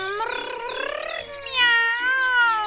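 A cat meows in a drawn-out, wavering cry, followed by a second higher, sliding meow; close and fairly loud, with no talking.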